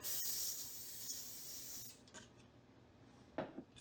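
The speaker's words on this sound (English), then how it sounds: "But you do want to spray your pan down" A steady cooking-spray aerosol hiss sprays onto a baking pan for about two seconds, close by, then stops, followed by a few light scrapes and knocks.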